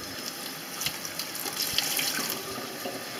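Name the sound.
water running from a tap while rinsing dyed fabric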